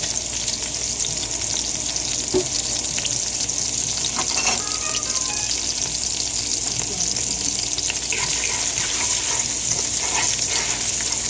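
Thyme and other seasoning ingredients sweating in a pan over a medium flame for Jamaican brown stew snapper, giving a steady, close, even sizzle with a few faint clinks and stirring touches throughout.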